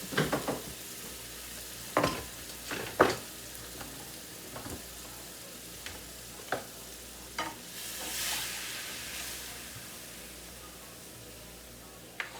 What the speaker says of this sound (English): Saute this for a couple of minutes.